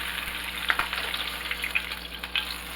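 Salmon fries skin-side down in a pan with a steady, close sizzle and crackle, dotted with small pops and spits throughout, without any talking.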